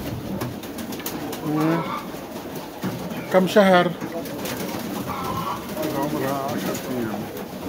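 Pigeons, including ten-day-old chicks, coo softly nearby under a voice, with low throaty warbles and a brief louder flutter of calls midway.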